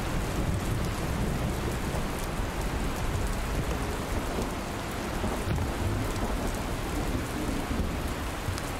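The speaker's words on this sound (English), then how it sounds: "Oh, that rain is..." Heavy rain pours steadily in the Dustland Delivery video game, a dense continuous hiss over a low rumble of thunder, with no talking.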